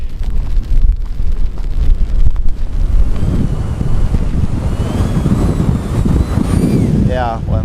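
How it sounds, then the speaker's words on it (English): Strong gusting wind buffets the microphone in a loud, continuous roar during an outdoor test of a Montbell ultralight umbrella, with a brief fluttering rattle near the end. "this wind is as much as it can take"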